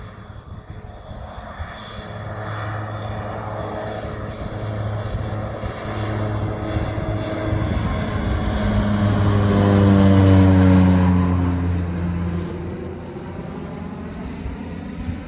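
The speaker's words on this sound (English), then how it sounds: "here we've got an island hopper taking off." A FedEx island-hopper propeller plane takes off near a jungle hillside in West Maui, Hawaii, its engine drone building steadily to a loud peak before fading off into the distance.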